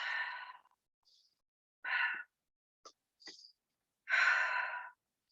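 Slow breaths during a breathing and pelvic movement exercise, with three soft, airy exhales spaced a couple of seconds apart and small clicks and puffs between them, with no talking.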